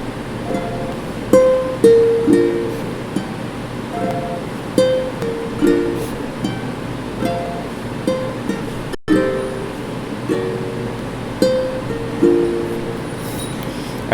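A ukulele plays the chorus of a song from Steven Universe, with plucked and strummed chords in a steady rhythm, close and clear with no talking.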